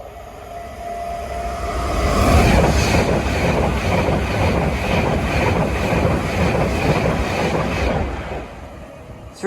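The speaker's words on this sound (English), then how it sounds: "Oh, another train coming." A Class 390 passenger train passes a trackside spot at Wedgwood, its steady rolling roar building within two seconds and holding loud for several seconds with rhythmic wheel clatter before easing off near the end.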